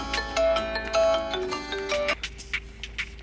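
A phone ringing late at night with an electronic melody of bright repeating tones for about two seconds, then breaking off into quieter sounds, close and fairly loud with no talking.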